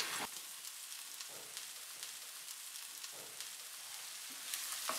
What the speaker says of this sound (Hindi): प्याज और लहसुन को हल्का सा फ्राई करेंगे।